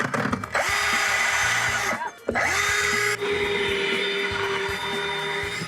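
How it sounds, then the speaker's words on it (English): A power drill whirs loudly up close, drilling holes to install a boat's bow cleat, cutting out briefly and then spinning up again into a steady high-pitched grind. "I'm just gonna drill right up into those"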